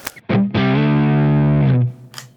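A single heavily distorted electric guitar rhythm chord through a Line 6 Helix amp modeler rings out for about a second, preceded and followed by brief picked notes.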